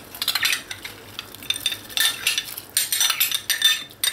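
A spoon scrapes and clinks through buckwheat soup with meat in a pot, giving steady, close stirring strokes in irregular bursts with faint sizzling underneath.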